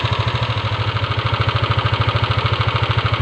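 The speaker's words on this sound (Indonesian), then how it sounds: "Oke, ini kita kontrol dari putaran mesinnya." A Yamaha Aerox scooter engine idles up close, a rapid, even pulsing putter with a steady rhythm and no talk over it.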